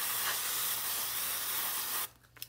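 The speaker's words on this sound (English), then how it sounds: "I'm going to give it one more spray with the MG Chemical Safety" Aerosol can of MG Chemicals Safety Wash sprayed onto a circuit board of a Heathkit Pro-Series stereo preamplifier: a loud, steady hiss that runs for about two seconds, then cuts off, leaving a quiet room with a couple of faint taps.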